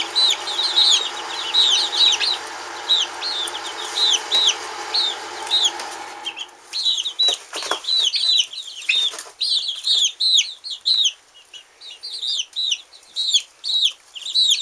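Backyard chickens kept for fun and organic eggs cluck and chirp in repeated short calls, close and fairly loud, with some wing flapping and rustling as the flock settles for the night.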